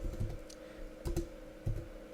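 A handful of soft keystrokes on a computer keyboard while a command is typed, quiet and close, with short bursts of clicks separated by brief pauses.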